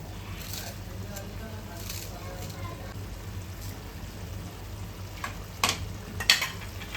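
Dahi bhindi curry, a yogurt and okra dish, simmers and bubbles in a pan as it comes to a boil, a soft steady sizzle with a few sharper clinks and stirring noises near the end.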